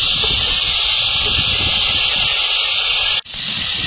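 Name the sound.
sizzling as mango is added to hot oil for cooking shol fish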